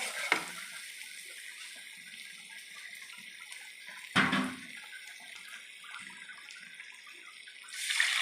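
Water is poured into a pan of spiced curry masala for an egg, potato and cauliflower dish, a soft running trickle marked by two short louder splashes and a gushing pour at the end.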